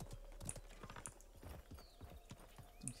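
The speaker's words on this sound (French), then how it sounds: "j'ai entendu un cheval qui est pas loin, donc quelqu'un est pas loin" Horse hooves clip-clopping nearby in the Realm Royale battle royale video game, a quiet, rapid, rhythmic patter of hoofbeats with faint chimes now and then.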